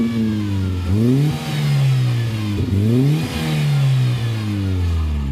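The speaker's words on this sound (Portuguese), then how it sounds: "Ele faz um chiado no motor, rapaziada, depois de quente." A warm VW Gol engine revs up and eases off three times in a steady cycle, loud and close, with a faint hiss under the rising and falling engine tone and no talking.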